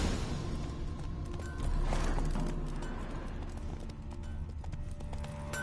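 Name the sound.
horse Roach hooves in video game The Witcher 3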